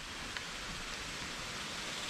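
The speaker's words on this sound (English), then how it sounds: "Look at the rain. It's raining cats and dogs." Heavy rain pours down steadily during a bicycle ride between Gainesville and Boliva, a dense, continuous hiss of falling water filling the scene from start to finish, with no voices.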